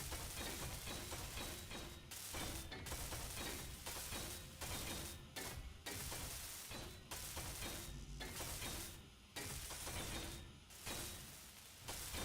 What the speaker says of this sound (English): let me weld all this up underneath here, the floor